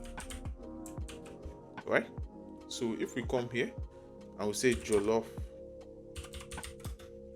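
Clicks from a computer keyboard come in quick bursts of keystrokes while someone talks over them.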